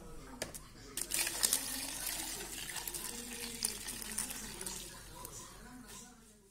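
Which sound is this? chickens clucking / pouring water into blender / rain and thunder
pouring water into blender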